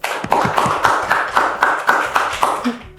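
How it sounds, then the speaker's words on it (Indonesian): An audience claps in a quick, rhythmic pattern to welcome a young guest, close and loud, about a dozen evenly spaced bursts of hands, with voices briefly audible underneath. "Tepuk tangan buat Ligar Awali Rajabia."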